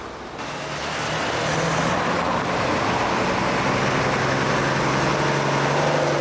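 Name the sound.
Routemaster bus RM 1000 passing on Brixton Hill, London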